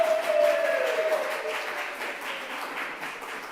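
Congregation applauding in a Unitarian Universalist church during a Sunday service, steady moderate clapping from many hands that fades slightly over a few seconds, with a brief sustained tone near the start.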